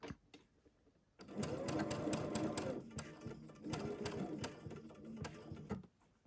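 Sewing machine stitching a quarter-inch seam on a butterfly quilt: two steady runs of rapid, close mechanical stitching with a brief pause between, and faint handling before and after.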